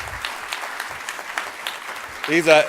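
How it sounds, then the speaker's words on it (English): Audience applause at a 2019 CERT conference in California, a dense wash of clapping that holds steady and swells louder near the end. "you should give yourselves a round of applause for that"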